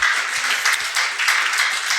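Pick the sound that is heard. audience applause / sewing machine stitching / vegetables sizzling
audience applause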